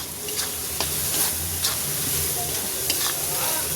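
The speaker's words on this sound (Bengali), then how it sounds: "এবার আলুটা দিয়ে দিচ্ছি, ভাজা আলুটা দিয়ে দিই।" Fried potatoes are stirred into a sizzling spice masala in a pan, giving a steady frying crackle with light scrapes and taps from the spoon, close up, with no voices.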